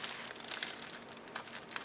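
Crinkling plastic packaging as a pack of felt stickers is opened, a close run of soft rustles and crackles with no voices.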